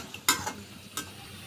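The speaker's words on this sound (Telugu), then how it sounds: "ఇక్కడ ఒక 50 గ్రాములు కాజు కూడా ఫ్రై చేసుకుంటున్నారు మమ్మీ." Cashews frying in a pan for vermicelli payasam give a soft, steady sizzle with two brief louder bursts of stirring, close and without talk.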